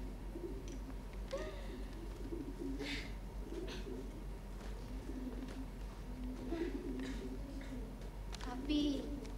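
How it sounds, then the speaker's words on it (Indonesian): Pigeons cooing in a quiet morning outdoor setting, soft low murmuring coos repeating at intervals against a steady background hum, with a few faint higher calls and brief noises scattered between. "dari mana merpati-merpati ini datang?"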